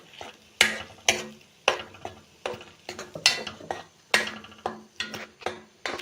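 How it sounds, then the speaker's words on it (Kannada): Gooseberries tossed in a frying pan sound as a series of sharp, rhythmic clacks and scrapes of a spoon against the pan, about twice a second, close by, over a faint sizzle. "ನೆಲ್ಲಿಕಾಯಿ ಹಾಕ್ತಾ ಇದ್ದೇನೆ"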